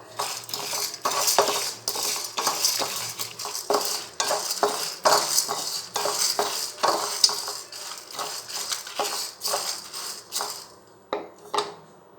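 Spices and curry leaves frying in a pan for vangi bath, with a spoon repeatedly scraping and clinking against the metal over a soft sizzle, steady stirring strokes and no talking.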